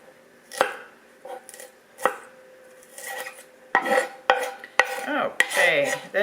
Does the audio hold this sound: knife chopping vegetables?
yes